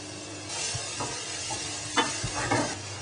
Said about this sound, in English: A little bit of olive oil, I say quite a lot of olive oil actually, just to sweat the onion down.